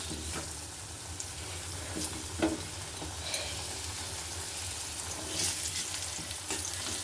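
Cut potato pieces fry in oil just used for pomfret fish, a soft continuous sizzle broken by occasional scrapes and light knocks of a spoon stirring them.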